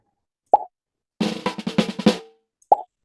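A short synthetic level-up effect from a Scratch clicker video game: a soft plop, then a quick burst of bright stepped tones, then another plop, heard alone with no talk.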